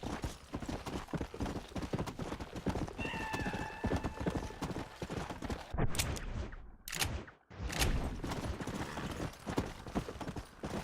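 Horse hooves clip-clop steadily at a gallop in the Red Dead Redemption: Undead Nightmare video game, with a clear neigh partway through and brief sharp bangs near the middle, all loud and continuous.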